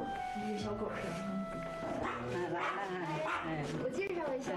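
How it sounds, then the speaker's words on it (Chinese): A small dog gives a few short yips and barks indoors, mixed in beneath people talking and steady background music. "你的小狗是吗？"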